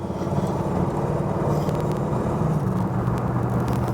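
A 1934 Ford Coupe with a 302 Ford V8 accelerates, a loud close engine roar with a low rumbling drone that holds steady throughout, and no one talking.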